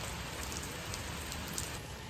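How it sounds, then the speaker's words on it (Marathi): Steady rain falling outdoors near Mahadev temples in Chhatrapati Sambhajinagar, a dense, even patter filling the whole stretch with no voices. "नेमका आजच पाऊस पण चालू झालेला आहे."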